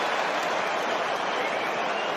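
Rugby crowd at a 2021 Tonga vs England match applauding, a dense, steady wash of clapping and crowd noise that holds evenly for about two seconds with no pauses.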